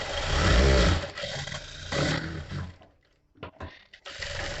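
A sewing machine runs in loud, close bursts of rapid mechanical whirring as it stitches a seam on princess-cut blouse fabric, pausing briefly near the end with a few clicks before starting again; no one speaks.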